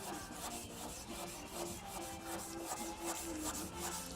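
Wet sanding spray paint off car clear coat produces soft, repetitive rubbing strokes, a quiet rhythmic scraping that swells and fades with each pass, close up and with no speech.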